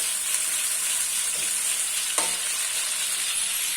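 Onions soften in a hot pan with a loud, steady, close-up frying hiss, broken by a brief scrape of stirring near the middle.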